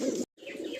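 Pair of breeding pigeons, a male and a female, giving soft close coos broken by a short silent gap, then more cooing with faint chirps.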